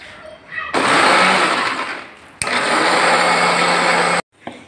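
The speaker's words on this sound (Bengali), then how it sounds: "এই যে ব্লেন্ডারে দিয়ে দিলাম, এখন সবগুলো ব্লেন্ড করে নেব।" An electric blender whirs through boiled garlic, chili and tomato for a garlic tomato sauce, running in two loud, close bursts separated by a brief slowdown before cutting off.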